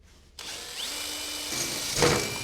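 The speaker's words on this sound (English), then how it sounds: "I'm just gonna bring my drill bit in here and just give it a clear out" Power drill clearing pre-drilled holes in a live steam engine tender floor pan, starting abruptly and whirring steadily close by for about two seconds, with a brief harsher grind near the end.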